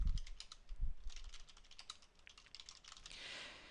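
Keys clatter on a computer keyboard as a username and password are typed into a bulletin board system login, a close run of quick irregular clicks with short pauses and no voice.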